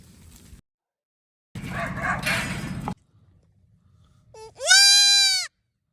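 A Spanish goat gives a short, rough bleat, and after a pause another Spanish goat lets out a loud, wavering bleat close by.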